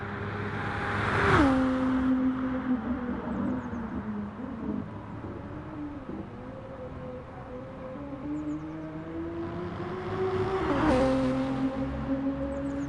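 Race cars in Gran Turismo Sport thunder down the long Mulsanne straight at La Sarthe during a two-hour multiclass event, engines droning steadily with rising pitch as cars pass close, swelling loud near the start and again near the end.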